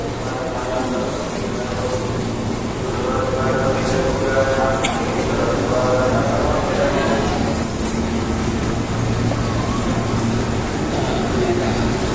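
A busy commuter train station on a Jakarta rail line toward Kampung Bandan, with a steady low rumble of trains and crowd, a few faint high squeals, and people talking throughout.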